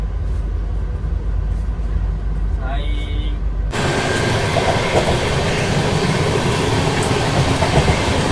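The East Coast Express rolls along the rails with a loud, close rumble and rattle; a quieter interior stretch with a brief voice gives way to a sudden surge of dense wheel and carriage noise.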